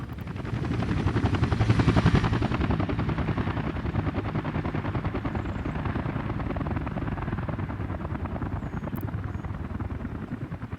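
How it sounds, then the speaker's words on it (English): Helicopters in Workers & Resources: Soviet Republic beat with a loud, continuous rapid rotor chop that swells early and then holds steady. No voices are heard. "helicopters. You're loud."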